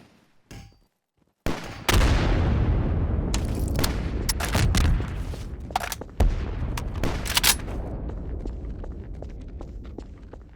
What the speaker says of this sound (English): Being shot from somewhere.